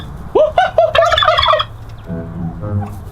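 A person imitates a turkey gobble, a quick warbling burst of calls, followed by a lower, rougher vocal sound.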